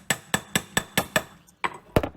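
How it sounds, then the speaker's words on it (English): Hammering on a grimy Jeep Cherokee axle part during axle reinstallation, six steady, ringing metallic blows close by, followed after a short pause by two more strikes. "Give this a couple of hammers."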